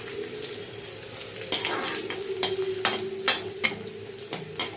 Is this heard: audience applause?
no